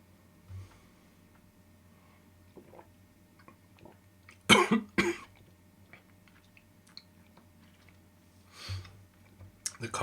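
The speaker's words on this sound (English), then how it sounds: "The cough was because I swallowed it wrong." A person coughs sharply twice in the middle after swallowing Glendronach 12 Year Old whisky the wrong way, with a softer cough near the end, close and loud against a quiet room with faint clicks.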